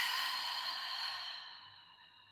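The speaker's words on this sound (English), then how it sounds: "Take 3 deep breaths right now." A person takes a slow, deep breath, a soft airy hiss that fades gradually over a couple of seconds, close and alone.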